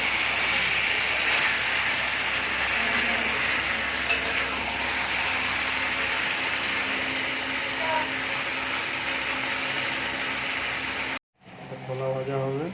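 Chicken being stir-fried kosha-style in a pan gives a steady, dense sizzle with faint stirring scrapes, running continuously until a brief cut near the end, after which different sounds follow.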